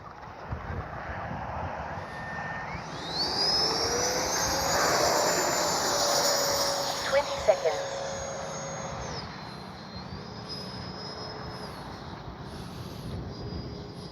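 A Freewing 90mm Zeus RC jet with an electric ducted fan flies past outdoors. Its high whine rises, holds steady, then fades as it passes, with wind buffeting the microphone and no speech.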